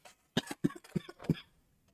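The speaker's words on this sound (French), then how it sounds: "Désolée de tousser." A woman coughs in a quick cluster of four or five sharp bursts, close by, then falls quiet.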